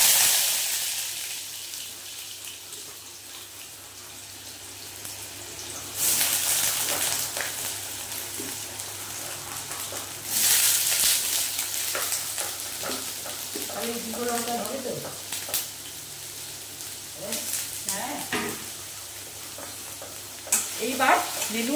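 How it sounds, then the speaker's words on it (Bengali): Chopped ridge gourd fries in hot oil in a kadai, sizzling steadily while being stirred, with louder bursts of sizzle and scraping strokes at intervals, close up and with no talking. "এইবারে এই যে কেটে রাখা নেনুয়াগুলো আমি দিয়ে দেবো।"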